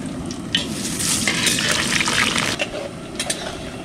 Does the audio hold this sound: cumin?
yes